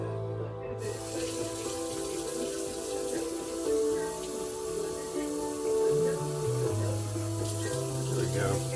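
Tap water runs from a faucet into a pot for Paldo King Noodle chicken-flavour instant noodles, a steady splashing stream under a faint tonal hum, with changing pitch as the level rises.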